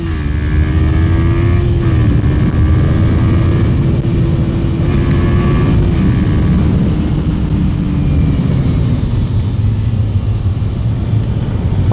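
A car speeds downhill at full throttle on the way to the Misano Superbike paddock. The engine roars loud and sustained from start to finish, with the pitch sliding slightly as it pulls hard.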